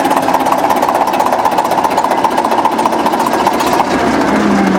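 A Waukesha 12-cylinder 800 kW diesel generator runs loud and close, with a steady, dense mechanical drone and rapid rattling pulse that barely changes.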